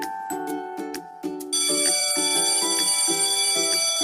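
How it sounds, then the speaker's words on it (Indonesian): A loud electronic school bell rings steadily and shrilly for recess, repeating a bright tone pattern without a pause, close by. "bunyi bel menandakan jam istirahat sekolah. Bunyinya terdengar nyaring di telinga"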